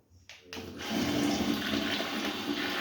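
A Loca electric smart toilet flushing, with a click and then a steady rush of water that holds at a constant level, close and fairly quiet, with no talk over it.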